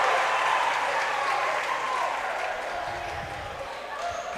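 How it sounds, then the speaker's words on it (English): A crowd at a high school basketball game roars and cheers in a loud, continuous wash of noise with overlapping voices, slowly easing over a few seconds. "And that right there, you can really hear the crowd roaring"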